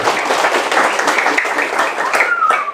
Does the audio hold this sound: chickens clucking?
no